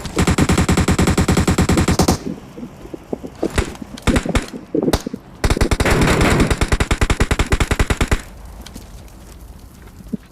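Automatic gunfire in the mobile shooter PUBG Mobile, loud rapid bursts of fast shots with short pauses between volleys and a few scattered single shots, close and dominant throughout.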